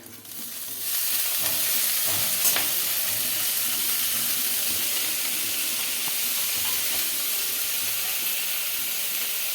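Loud, steady sizzling of chopped greens frying in a pan with onion, with occasional scraping and stirring sounds, continuous throughout and close by.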